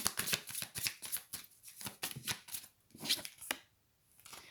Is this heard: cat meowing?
no